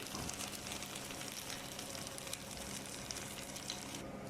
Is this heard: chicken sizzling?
yes